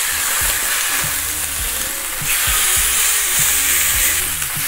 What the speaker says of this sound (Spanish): Y ahora sí, a sellar. Esto es rápido, solo un par de minutos, unos 2 minutitos por lado, solamente queremos sellar.